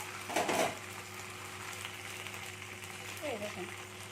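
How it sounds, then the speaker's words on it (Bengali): A potato snack fries in oil in a pan with a soft, steady background sizzle, broken by a couple of brief louder bursts as it is handled, while someone talks over it. "এদিকটাও আমি ভাজতে দেবো"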